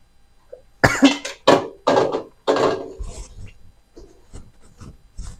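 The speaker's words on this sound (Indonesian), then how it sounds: "Sampai batuk-batuk ya" A short burst of several harsh coughs, close and loud, while cooking sambal goreng kentang, followed by quieter faint sounds and a brief voice.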